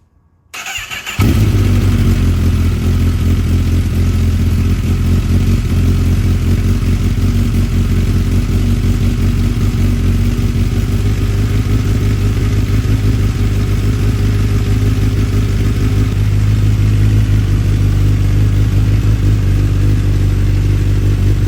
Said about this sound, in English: I'll give you all a little quick startup and a couple revs